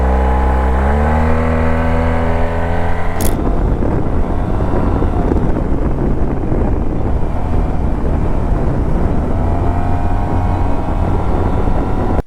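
An automatic super scooter's engine rises through rising harmonics as the throttle opens, then gives way to a loud, steady roar buffeted by heavy wind noise as speed builds.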